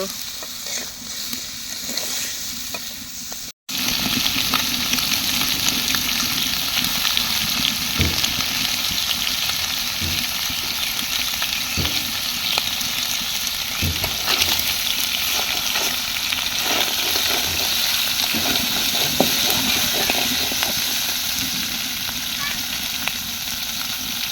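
Crab sizzles and crackles steadily in a frying pan, a loud, dense hiss that runs almost without a break after a brief gap near the start.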